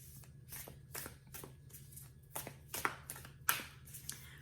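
Tarot cards being shuffled by hand, a series of soft riffling bursts and flicks in uneven rhythm, close and fairly quiet, with no talking.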